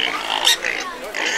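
A pig grunts and oinks at a pig race in Wetschen, a close, loud string of short nasal grunts with crowd noise behind.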